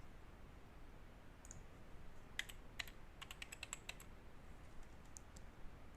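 A computer keyboard is typed on in quick soft clicking bursts with short pauses, faint and close over a steady background hum, and no one speaks.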